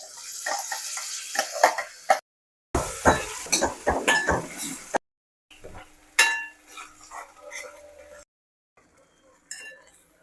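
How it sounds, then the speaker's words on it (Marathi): A spice paste for palak paneer hits hot oil in a pan with a sizzle and is stirred, giving bursts of scraping and utensil clinks broken by brief silences, with someone talking at times. "मस्त तेल सुटले ना, आता ह्याच्यामध्ये ही पेस्ट टाकून घेते."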